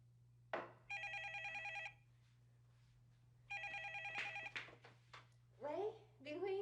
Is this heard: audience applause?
no